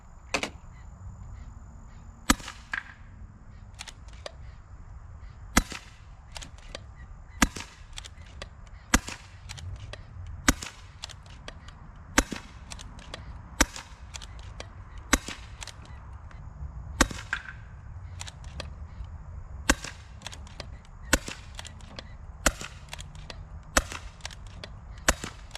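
Pinty Striker PCP air rifle fired in a penetration test, sharp cracking shots repeated steadily about every second or two, each crisp and close over a quiet background hiss.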